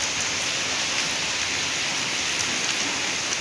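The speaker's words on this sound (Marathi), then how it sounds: "ह्या लईच पाऊस डेंजर आहे." Heavy rain pours steadily in a dense, unbroken hiss, loud and close with no pauses.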